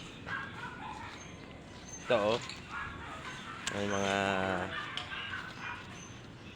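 A pet dog named Bruno lets out a couple of short yelps and then a longer whining bark, heard fairly close outdoors while a person talks over part of it.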